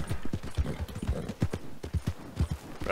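Horse hooves pound in a fast galloping rhythm in the online western game Red Dead Online, loud close thuds repeating irregularly across a few seconds with no clear talk over them.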